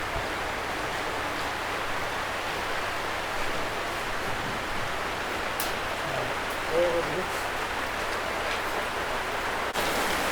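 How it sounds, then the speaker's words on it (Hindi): Rain falls steadily outside a garage, a dense, even hiss of drops that holds throughout, with a faint voice briefly in the background. "बारिश दे रहा है आज को भी।"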